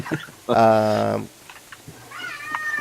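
One loud, drawn-out cat meow stands out close by, followed by soft clicking and a fainter, higher cat cry near the end.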